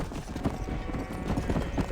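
Horse hooves clip-clop in quick, steady rhythm in the video game Red Dead Redemption, moderately loud and close, with no speech over them.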